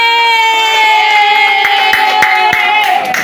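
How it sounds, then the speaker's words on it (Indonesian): Sixth-grade children clapping in a classroom, a loud cheer with sustained high voices and scattered sharp claps ringing out over a steady tone, close and bright throughout. "Tepuk tangan dong, teman-teman."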